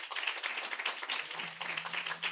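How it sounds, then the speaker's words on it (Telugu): A church congregation at an annual anniversary gathering in Kurrakalva, Tirupati claps together in a dense, steady patter of many hands, sustained and fairly loud throughout, with a faint low hum entering partway through. "ఇంకోసారి మనం క్లాప్ చేసి"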